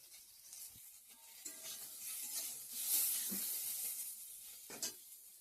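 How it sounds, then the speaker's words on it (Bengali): Fish fries in a pan with a faint, soft sizzle and a few brief spits and clinks, heard close but quiet, with no talking. "মাছটা ভেজে রাখছি"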